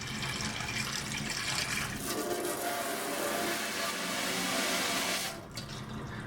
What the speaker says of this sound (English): this water would have to speed up in order to get the same volume out of that aperture at the same time